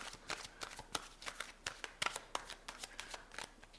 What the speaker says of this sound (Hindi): वैसे तो मैंने आपके कार्ड्स ऑलरेडी शफल कर लिए हैं, but I will give it few more nice shuffles.